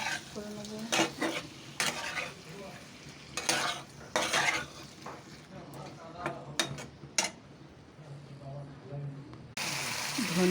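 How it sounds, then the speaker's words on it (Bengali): Fish being stirred gently in a kadai, with repeated scraping strokes of a spatula against the pan over a soft frying sizzle, close and moderately loud, a brief louder burst near the end. "আস্তে করে নাড়াচাড়া করে নেবো, এটাকে ভালো করে মিক্স করে নেবো"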